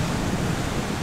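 Ocean surf washes onto the beach at El Mayto on the Cabo Corrientes coast of Jalisco, Mexico, a steady broad hiss and rumble of breaking waves with no voices.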